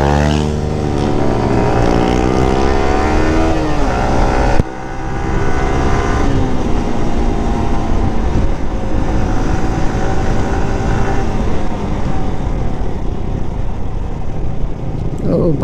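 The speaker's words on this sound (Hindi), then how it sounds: "भाई का एग्जॉस्ट पूरा एकदम बहुत ही लाउडी है" Loud exhausts of a Suzuki Hayabusa and a Kawasaki ZX-10R riding on the road, a close, continuous engine roar with rising and falling revs and a brief dip partway through.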